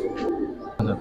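Silver and colored Giribaz pigeons cooing inside a loft, two soft low coos close by, the second starting abruptly near the end.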